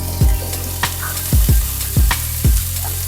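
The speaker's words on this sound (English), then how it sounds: "I'm gonna saute these until they get a little bit brown on the sides" Bell peppers sautéing in butter over medium-high heat, with a steady, loud close-up sizzle and several dull thumps and knocks as the pan is stirred or shaken at irregular intervals.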